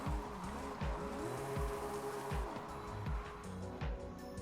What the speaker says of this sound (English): Now we do donuts, because that's how we end them.